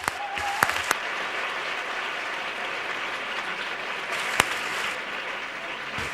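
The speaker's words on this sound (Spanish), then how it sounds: "¡Un aplauso!" Applause from a lecture audience at a medical talk on internal medicine, a steady sustained wash of clapping with a few sharper claps standing out, fairly distant and without speech over it.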